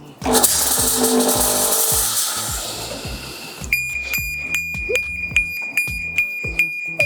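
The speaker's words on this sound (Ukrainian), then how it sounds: "дим машина, вона зараз нам допоможе зробити імітацію спрацювання даного датчику" Ajax FireProtect 2 wireless fire detector set off by a smoke machine: after a burst of hissing fog spray, a loud, steady high-pitched alarm tone with rapid repeating beeps and clicks sounds up close.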